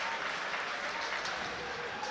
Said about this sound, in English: And the Nationals fans giving their boys a round of applause.